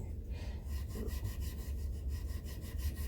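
Fine 2000 grit abrasive rubbed over the frets of a handmade guitar, a soft rapid back-and-forth scraping in even strokes, close and fairly quiet.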